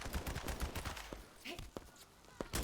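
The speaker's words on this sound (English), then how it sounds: "Stop shooting me." Repeated automatic weapon fire rattles through a The First Descendant sci-fi shooter battle, steady bursts at moderate volume, easing briefly before more shots at the close.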